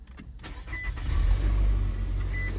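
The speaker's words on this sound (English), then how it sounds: "A few different keys. See if she starts up." A 2017 Nissan Altima with 94,000 miles cranks and starts, its engine catching and rising into a steady, loud idle that carries on close by with no talk.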